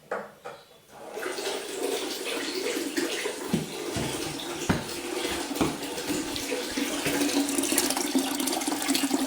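Water rushes into a close-coupled toilet cistern once the supply is turned on, beginning with a few clunks and then building into a steady, close hiss of filling that grows slightly louder.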